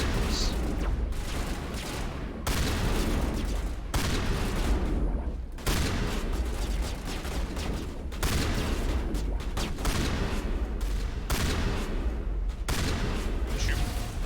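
Combat gunfire and shotgun blasts in the Mass Effect video game, a dense, loud, nearly unbroken barrage of shots and booms with brief gaps, with voices talking faintly underneath.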